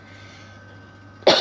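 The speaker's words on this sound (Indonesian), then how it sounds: "agak batuk-batuk, tenggorokan kok kayak agak gatel gitu" A single sharp cough breaks out abruptly near the end, close and loud after a moment of near silence, from someone with a scratchy, itchy throat.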